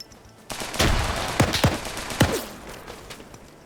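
Gunfire and explosions in a PvP military video game match set in Indochina: a burst of rapid shots followed by several sharp, loud cracks and thumps echoing over a rumbling background.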